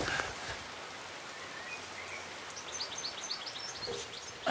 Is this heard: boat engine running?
no